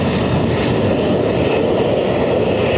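A Qatar Boeing 777 with a blown tyre comes in to land at Dublin Airport, its engines a loud, steady, broad roar that holds close and unbroken throughout.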